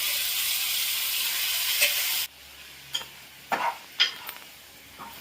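Washed raw chicken hits a hot pan with a loud, broad sizzle that cuts off abruptly, followed by quieter stirring scrapes and a few short clatters of a spoon against the pan.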